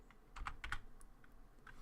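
Rapid bursts of typing on a computer keyboard, a dozen or so crisp clicks in uneven clusters with short pauses, close and fairly loud with no talking.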